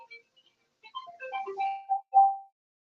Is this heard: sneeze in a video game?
no